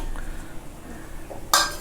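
Spoon scraping and clinking against a pot while stirring thick rice flour dough, soft scrapes followed by a sharper metallic clink near the end, close up without talk.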